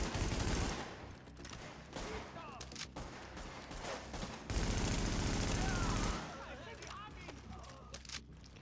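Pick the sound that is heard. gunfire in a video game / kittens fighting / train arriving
gunfire in a video game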